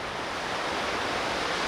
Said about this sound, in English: Some of these waves breaking about 100 yards out here.